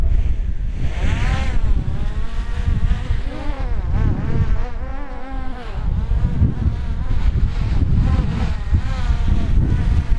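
A DJI Mavic Air 2S drone hovers in strong wind in sports mode, its steady high-pitched propeller whine wavering in pitch as gusts push it about, mixed with loud rumbling wind buffeting throughout.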